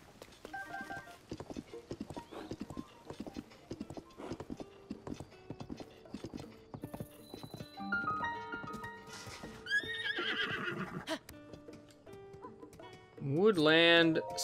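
A horse in the video game Zelda: Tears of the Kingdom trots with steady clip-clop hooves under game music, then gives a loud, wavering neigh near the end.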